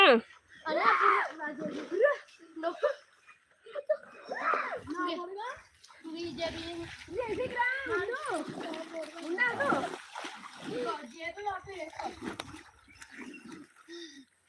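People jumping into water and swimming on a farm, with repeated splashes and churning water mixed with lively talk and children's voices throughout.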